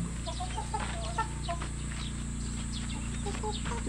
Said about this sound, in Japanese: ニワトリさん、こうって言うんやね。